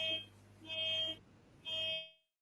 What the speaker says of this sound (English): Oh, we got a car alarm.